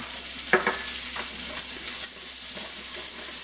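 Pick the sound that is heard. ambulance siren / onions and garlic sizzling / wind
onions and garlic sizzling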